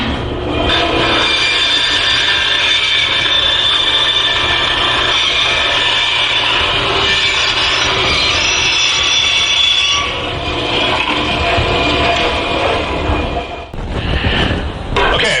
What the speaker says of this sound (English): I finished on the bandsaw